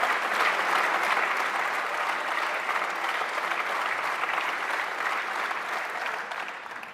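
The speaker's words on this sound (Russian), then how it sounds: "где его встречали аплодисментами представители всех политических партий" Sustained applause from lawmakers fills the French parliament chamber, a dense, even wash of many hands clapping at moderate distance that tapers slightly toward the end.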